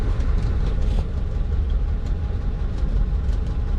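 A 1935 Ford engine idles in neutral, a steady, loud, close low rumble with a continuous mechanical churn and no noticeable changes in speed, without voices.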